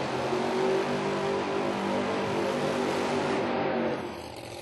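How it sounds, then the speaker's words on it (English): A Procharger-supercharged drag car does a burnout at a drag racing event, its engine a loud, sustained, rasping roar that holds steady for several seconds before easing off near the end. "The different type of blowers will be doing a burnout here."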